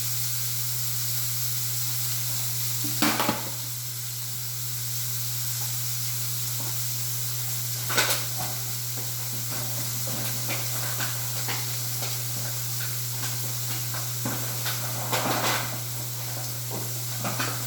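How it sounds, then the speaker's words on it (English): Steak sizzling in hot oil in a pan, a steady, fairly quiet hiss that runs throughout, with a few brief louder flares as the meat shifts. "add this next steak to my hot oil I got over here and listen to that stir"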